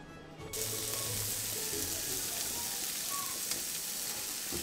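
Shrimp frying in a pan for a potato filling, a loud, steady, close sizzle that starts abruptly and holds evenly to the end.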